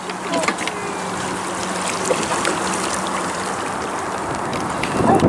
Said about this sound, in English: I just switched out so I could film, but yeah, we're paddling